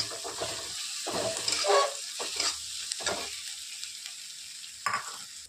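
Thecha chili paste, about one and a half spoonfuls, sizzles and fries in a hot pan while being stirred, a steady close crackle broken by several louder scraping strokes.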